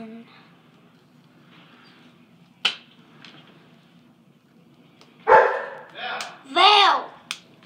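A dog indoors gives a few short, sharp barks and yips, one early and a loud cluster near the end, with a voice scolding in between over a quiet room hum.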